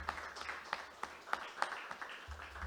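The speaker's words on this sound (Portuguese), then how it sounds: "Uma salva de palmas ao nosso Senhor Jesus Cristo" Faint, scattered handclaps from a church congregation at an evangelical service, sparse and uneven, heard at a distance with a low hum beneath.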